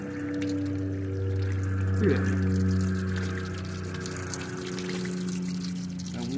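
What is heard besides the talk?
running water rinsing cleaned fish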